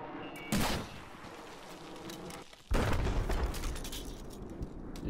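Two loud launches of a Stinger rocket launcher on a Battlefield 4 test range, each a sharp blast followed by a rushing roar, the second one heavier and sustained as it trails away.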